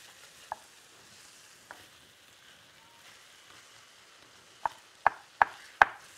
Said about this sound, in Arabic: زي ما انتم شايفين بنبدا نقطع.